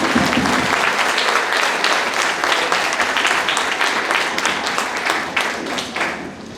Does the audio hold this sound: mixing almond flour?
no